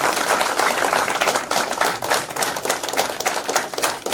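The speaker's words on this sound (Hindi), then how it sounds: "सर दिल से एक बार आपके लिए फिर से जबरदस्त तालियां।" Clapping from an audience at a leadership seminar in Mount Abu, given as a tribute to a speaker. It is loud, dense and continuous, with individual claps audible in quick rhythm throughout.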